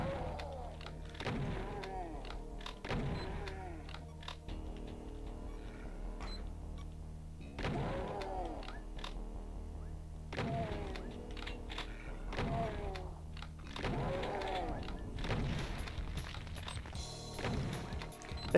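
Repeated electronic beeping in a Doom map, short bright chirps recurring in irregular bursts over a steady game background, with no talking.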